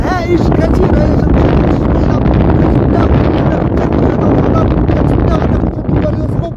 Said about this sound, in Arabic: كما كتشوفوا معنا رياح قويه، امواج عاليه، بحر هائج كثير هيجان